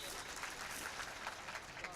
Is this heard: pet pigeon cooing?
no